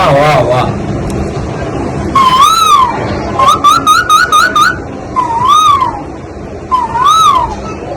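A person whistles a series of rising and falling bird-like calls, imitating a cuckoo by voice as mimicry, with short repeated trills in between and background noise throughout.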